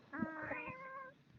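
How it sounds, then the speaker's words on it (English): A cat gives a single drawn-out meow, heard faintly and a little distant in an otherwise quiet room. "I just heard a cat."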